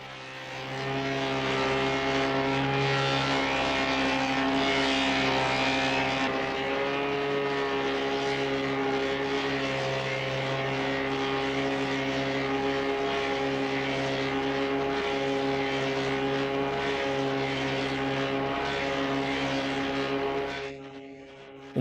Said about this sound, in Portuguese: Com o motor ligado, a engrenagem pesada entra em movimento.